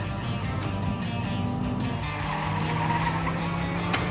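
A car drives a fast slalom at around 60 km/h, its engine droning steadily up close while the tires squeal faintly through the turns, with cabin noise throughout.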